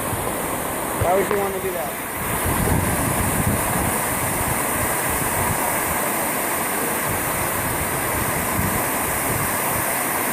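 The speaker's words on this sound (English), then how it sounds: "this is the waterfall" A waterfall pours in a steady, broad rushing roar that fills the whole stretch, with someone speaking briefly near the start over the constant water noise.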